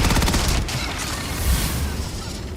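Sustained gunfire in Starfield, a dense, continuous barrage of loud rapid shots and booms throughout a busy fight, with no talking.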